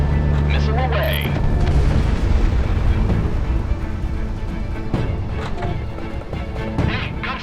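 Missile launches and explosions in the flight combat video game Project Wingman: a continuous loud roar of blasts and booming rumble, with scattered sharp bursts, and radio voices over it.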